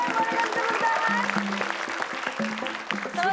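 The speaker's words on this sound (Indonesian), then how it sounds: "Boleh kasih tepuk tangan." Applause from a studio audience at a team game show, a steady wash of clapping throughout, mixed with lively background music and some voices.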